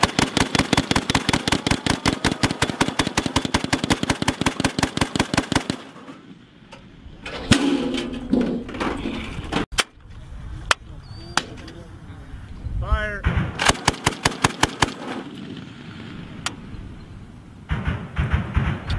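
A 40mm Mk 19 automatic grenade launcher fires in long rapid bursts of sharp, evenly spaced thumps, first a sustained string, then scattered single reports and another short burst, with distant rumbles and brief voices between volleys.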